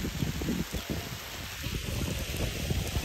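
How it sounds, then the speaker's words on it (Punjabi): Heavy rain pouring steadily, a dense continuous patter and roar with no voices. "ਬਹੁਤ ਸਪੀਡ ਨਾਲ ਬਾਰਿਸ਼ ਹੋ ਰਹੀ ਹੈ"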